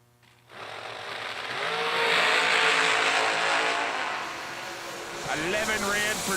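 Courtney Grisey's supercharged drag racing car roars loudly, the engine noise swelling and holding for several seconds, with an announcer talking over it.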